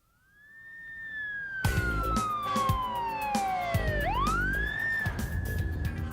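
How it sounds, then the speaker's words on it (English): A police car siren wails loudly from inside or near the moving car, its pitch sweeping slowly down and then swinging back up, over steady road rumble, continuous for several seconds. "Which is why we find ourselves in this police car, heading back to the station"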